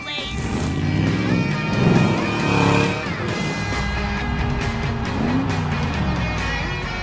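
Cartoon monster trucks rev at a race starting line, loud engine roars layered with repeated tire squeals and skids, continuous and busy throughout, with voices mixed in.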